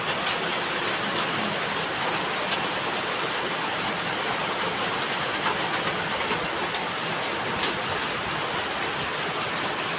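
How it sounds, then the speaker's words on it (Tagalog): Heavy, sudden downpour pounding steadily in a hot residential spot, a dense continuous roar with no pauses or talk. "Ang lakas ng ulan."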